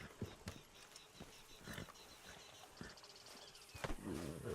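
A horse walking in the video game Red Dead Redemption 2, its hooves giving soft, irregular clip-clop steps at a quiet level under faint game ambience, with no speech.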